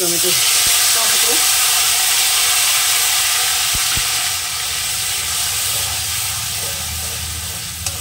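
Tomato paste frying with cumin seeds in a pan gives off a loud, continuous close hiss of steam and sizzle, with a few sharp knocks early on, easing slightly toward the end.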